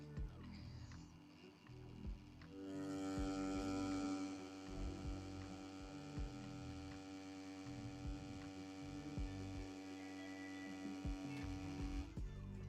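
A Yilong F8 tattoo machine fitted with a needle cartridge runs with a steady, close electric buzz, holding a constant pitch for several seconds and continuing without interruption, with no voice heard.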